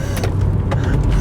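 A Hyundai Getz hatchback driving around a small roundabout, heard from inside as a loud, steady low engine and road drone with faint mechanical ticks, and no voices.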